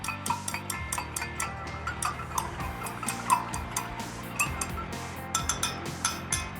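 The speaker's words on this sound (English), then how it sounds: "We stir it well for about 2 or 3 minutes." A spoon stirs clove extract mouthwash mixture in a glass, giving a steady run of quick light clinks and ticks against the sides, close and clear with no talking.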